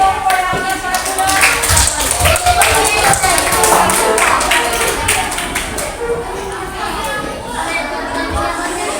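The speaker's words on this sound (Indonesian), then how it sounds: "Oke, tepuk tangan dulu buat pemenangnya satu." A group of children in a classroom clapping for a game winner, rapid uneven hand claps spread over several seconds and tapering off, with kids chattering and talking over the clapping.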